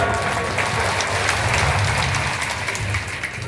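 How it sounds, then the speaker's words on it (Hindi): Audience applause at a Sarhul festival public event, a steady dense wash of many hands clapping throughout, loud and continuous with a faint crowd murmur underneath. "आदर ताली जोर से नहीं बजा रहे आप लोग"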